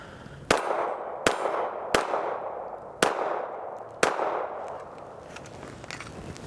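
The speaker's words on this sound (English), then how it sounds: "Pretty comfortable little gun to shoot." Five sharp gunshots from a Ruger Security 380 Lite Rack pistol at a shooting range, spaced roughly a second apart, each a loud crack with a short ringing echo, followed by quiet.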